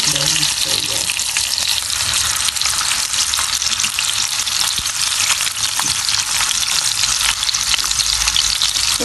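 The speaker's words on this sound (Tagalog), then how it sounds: "Kaya prituin muna natin to." Hotdogs frying in hot oil in a pan, a loud, dense, continuous sizzle and crackle close up with occasional stirring clinks, no voices.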